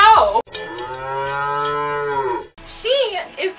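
A cow sound effect gives one long, loud, steady moo lasting about two seconds, framed by brief unrelated noises just before and after it.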